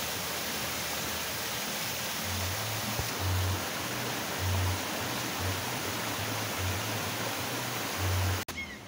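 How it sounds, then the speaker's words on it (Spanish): Water running down a channel toward a river in a rural community in Santa María Temascalapa, Hidalgo, Mexico, a steady broad rushing hiss close by with faint low pulsing beneath, ending with a sudden cut. "Y toda esta agua que baja aquí, se va aquí derecho hasta llegar al río."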